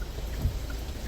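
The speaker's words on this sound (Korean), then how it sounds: "비가 와, 이거." Steady rain heard from inside a taxi on a city street in Goyang, South Korea, a dense hiss with low rumble and no talk over it.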